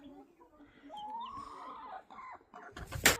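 Chickens in a backyard coop cluck and squawk faintly at close range, and a voice talks intermittently over them, ending in a louder rustle.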